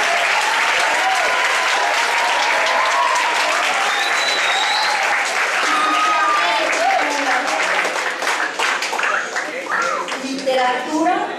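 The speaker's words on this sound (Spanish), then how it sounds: "Él es José Juan González Ortiz, para quien pido un aplauso." An audience at a literature talk claps loudly and steadily to welcome a speaker, a dense sustained round of applause that thins slightly near the end.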